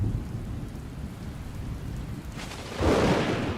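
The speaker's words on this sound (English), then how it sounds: "With the first drops of rain, the Liuwa itself comes to life." Steady rain falls across the flat Liuwa plain in Zambia, and a deep roll of thunder swells loudly near the end. No voices are heard.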